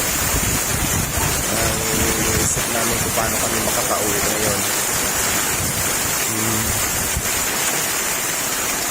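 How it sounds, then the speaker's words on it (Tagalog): Strong wind and heavy rain over a fishpond roar as a loud, constant wash of noise that buffets the microphone, while a person talks over it. "Malakas ang ulan. Malakas ang hangin."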